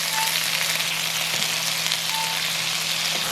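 Bilimbi fruit sautés in hot oil for a Jaffna-style achcharu pickle, giving a steady, even sizzle and crackle that holds at a constant level from start to finish, with no voices.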